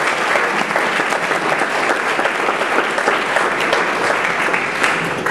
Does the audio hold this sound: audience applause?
yes